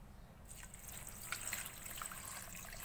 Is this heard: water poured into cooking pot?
yes